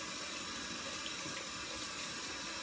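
A tap runs steadily as a towel is wet under it for a hair-care routine, a continuous close hiss of flowing water with no voices.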